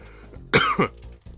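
A person coughing, two sharp close bursts in quick succession, then a softer throat sound.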